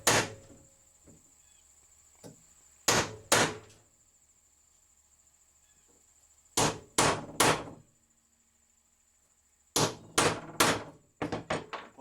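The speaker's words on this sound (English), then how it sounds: "I'm going to take my center punch, just set it right on our holes that we marked for our lace holes." A hammer strikes a center punch to mark lace holes for ice creepers, sharp metallic taps coming in clusters of two or three with pauses between, close and loud in a quiet room.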